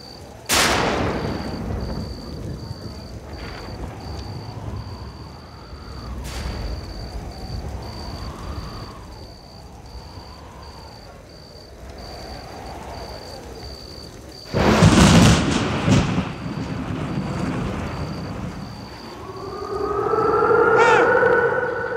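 Thunder roar sound effect in an Assamese stage drama, long rumbling booms with sharp cracking onsets, loud and echoing, mixed with music and a steady tone in the background.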